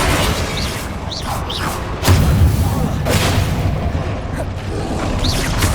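Explosion spells in Hogwarts Legacy go off amid a spell-filled duel: several heavy booms and thuds with a dense mechanical clatter, one strong blast near the middle, loud and continuous.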